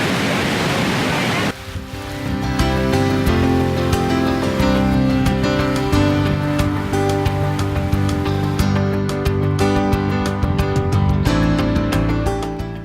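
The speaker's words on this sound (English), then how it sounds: "So it's cold and rainy in mid-June." Steady rain falling on a hiking trail in the Many Glacier area of Glacier National Park on a cold day, a dense continuous hiss that stays loud throughout, overlaid by music.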